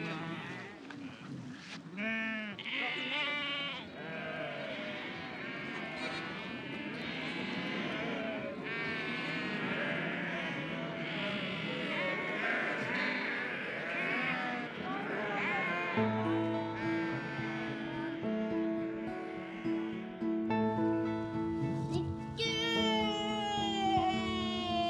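Goats bleat repeatedly and loudly, many wavering overlapping cries from a close herd, with a tonal melody joining in the latter part.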